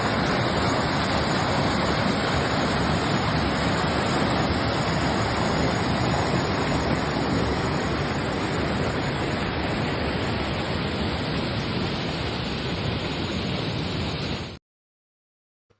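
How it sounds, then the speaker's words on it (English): Water running over rocks near waterfalls in northern Portugal makes a steady, loud, broadband rush that continues unbroken for about fourteen seconds, then cuts off abruptly. "So here's the water running through the rocks."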